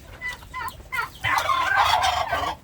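Several turkeys gobble in a rapid, warbling burst, growing louder and more sustained toward the middle, with no talking.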